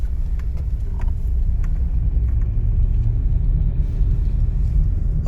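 Low, steady engine rumble of a car on the road during a driving lesson, continuous and close inside the cabin, with faint clicks and no talking.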